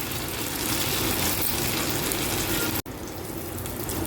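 Spinach poha cutlets shallow fry in oil on a tawa over medium gas, giving a loud, continuous sizzling hiss with one brief dropout near the end.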